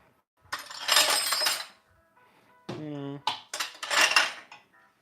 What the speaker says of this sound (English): Can do some dishes.